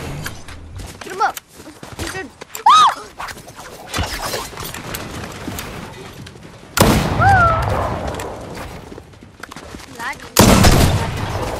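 Fortnite gunfire, with sharp loud bursts of shots and heavier booming blasts breaking out in clusters among quieter stretches, while players talk over it.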